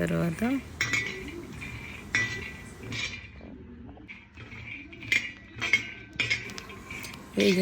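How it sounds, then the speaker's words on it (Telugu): Metal spoon scraping and clinking against a pan as peanuts are roasted and stirred, repeated sharp chinks and scrapes at an irregular rhythm, close and fairly loud. "పల్లీలు ఫస్ట్ వేయించుకోవాలి"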